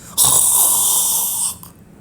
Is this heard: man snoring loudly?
yes